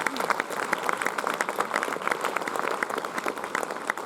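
Audience applause at a live concert in Plouha in 2016, a dense, steady patter of many hands clapping at moderate volume, sustained throughout with no break and crowd noise mixed in.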